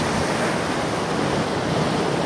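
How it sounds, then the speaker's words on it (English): Ocean waves surge and break against lava rocks at the water's edge, a steady, loud wash of surf with wind buffeting the microphone throughout and no distinct pauses between swells. "Let's see if we can catch a wave here."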